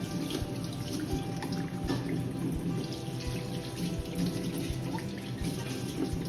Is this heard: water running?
yes